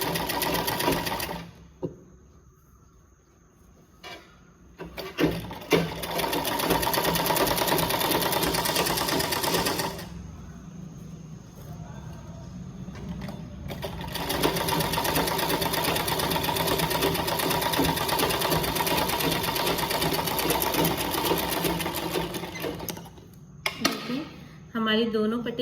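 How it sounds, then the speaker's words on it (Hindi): A sewing machine runs in steady stretches while stitching a blouse strip, with loud continuous whirring broken by short pauses, and a person talks over it between runs. "देखिए, दूसरी पट्टी को भी हम सिल लेते हैं।"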